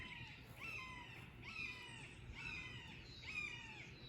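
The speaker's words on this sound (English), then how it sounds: "got birds in the area" Birds, likely crows, squawk outdoors in a repeating series of four harsh calls about a second apart, moderately near over a low steady background hum.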